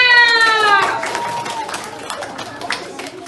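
Clapping from an audience at a Harry Potter themed event in a cultural centre; a raised voice rings out first, then scattered claps and crowd noise follow at moderate level.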